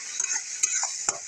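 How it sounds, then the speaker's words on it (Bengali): Spice masala with tomato fries in a hot pan, a steady bright sizzle close up with a few quick scraping stirs of the spoon, no speech. "আর একটু ভালো করে কষায় নেবো টমেটোটা দিয়ে।"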